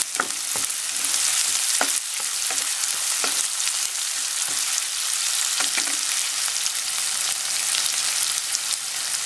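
Onions sautéing in a pan, a steady, fairly loud sizzle with repeated scrapes and knocks of stirring scattered throughout, no voices.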